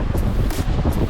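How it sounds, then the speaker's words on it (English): Wind buffeting a microphone on a boat out on the water on a cold, windy Florida day, a steady low roaring rumble with gusty swells, close and loud, no speech. "Cold, windy day on the waters, better than sitting at home."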